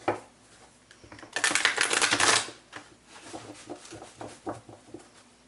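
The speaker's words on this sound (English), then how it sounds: "Let's do one more shuffle here." Playing cards shuffled during a tarot reading give a burst of dense riffling and flapping lasting about a second. Scattered soft taps and clicks follow as the deck settles, close and moderately loud, with no talk.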